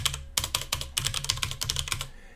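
Rapid keystrokes on a computer keyboard as commands are typed into a command prompt, arriving in quick bursts with brief pauses between them, close and clear with no voices.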